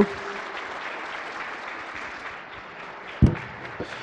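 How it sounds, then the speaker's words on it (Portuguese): Audience applause for a speaker after a software development talk, a soft, even patter of clapping from a modest crowd, with a couple of sharper thumps near the end. "Uma salva de palmas para o nosso palestrante."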